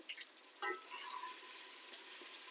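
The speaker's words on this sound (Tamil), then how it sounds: "இஞ்சி பூண்டு அந்த ஸ்மெல் போகிற வரைக்கும் கொஞ்சம் நல்லா வதக்கணும்." Ginger garlic paste sautéing in a pan gives a soft, close sizzle, with scraping stirs and light clinks of a utensil against the pan over a quiet background.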